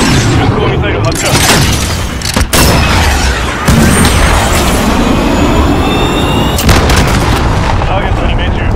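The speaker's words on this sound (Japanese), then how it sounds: "こちらジャガー、巡航ミサイル発射。" Cruise missile launch and strike in the Call of Duty: Modern Warfare video game: a loud, continuous barrage of booming artillery-like blasts and rumbling explosions with sharp cracks throughout, a voice speaking over the din.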